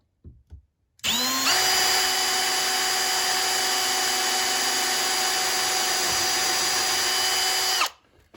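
A power drill bores pilot holes in a wall for hanging a curtain rod, whirring loud and steady for about seven seconds after a brief start-up, then winding down.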